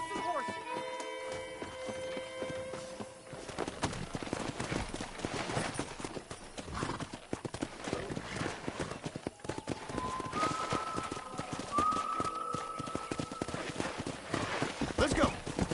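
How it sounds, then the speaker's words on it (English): Horses' hooves clip-clop in Red Dead Redemption on a ranch, a run of uneven beats mixed with whinnies and ambient game sound, while occasional tonal music and effects rise in the background. "Let's see if we can't wrangle some horses."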